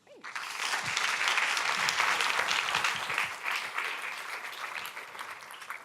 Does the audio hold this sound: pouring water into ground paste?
no